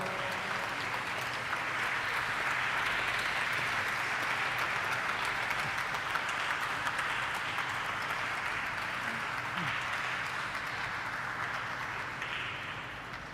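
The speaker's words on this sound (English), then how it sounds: "A round of applause really is in order." Guests at a Vodafone Idea bell ringing ceremony give the leadership team a sustained round of applause, dense even clapping for over thirteen seconds, with faint background murmur and no clear talk.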